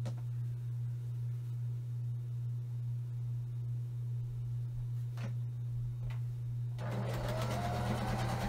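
A sewing machine stitches quilt block rows together for a friendship star block, giving a steady close mechanical hum that continues throughout and turns brighter and busier near the end.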